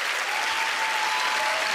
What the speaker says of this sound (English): please give her a big round of applause for those random decisions